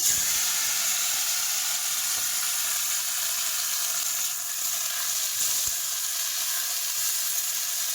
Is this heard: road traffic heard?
no